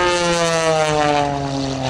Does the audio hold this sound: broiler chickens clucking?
no